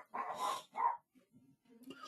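Dogs bark upstairs in a house, two loud bursts of barking up close early on, then quieter scattered woofs and whimpers trailing off.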